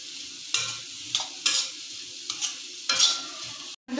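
Shredded cabbage for spring roll filling sautés in a pan, with a soft continuous sizzle broken by several sharp scraping stirs of a spatula, quiet and close.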